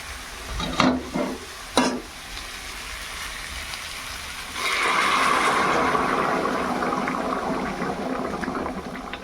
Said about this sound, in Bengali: ঝোলটা ভালো করে ফুটে গেছে